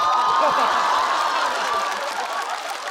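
A stand-up comedy crowd breaks into applause, with rapid close clapping mixed with laughter and cheers, steady and loud before slowly thinning out.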